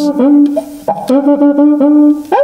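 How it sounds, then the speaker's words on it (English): A Brazilian cuica friction drum squeaks and whoops, its pitch sliding up and down in a continuous run of nasal, voice-like cries, loud and close. "The Brazilian cuica is one of my favorite friction membranophones because it sounds like this."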